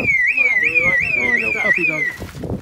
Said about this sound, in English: We're having some issues with the alarm here.